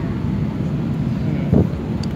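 Inside an EasyJet Airbus A319/320 cabin during landing, a steady low rumbling roar of engine and airflow fills the space, with a faint brief knock near the end.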